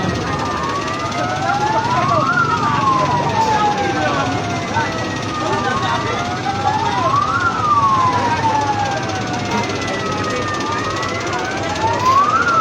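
Emergency siren wailing in repeated rising and falling sweeps during a nighttime response to an electronics store fire in Lubuklinggau, loud and continuous over traffic rumble, with people talking in the background.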